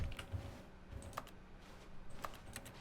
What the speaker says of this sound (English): I still have keyboard noises whenever I hit interact.